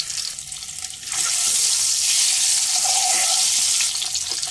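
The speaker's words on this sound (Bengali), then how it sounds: "ডিমগুলোকে দিয়ে আমি হালকা ভেজে উঠিয়ে নেব।" Eggs frying in white oil in a wok produce a loud, hissing sizzle that swells sharply after a quieter opening second, then holds steady and close with no voices.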